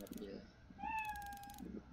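A single drawn-out cat meow in a video game rises and holds at a steady pitch, with faint game background noise and thumps around it.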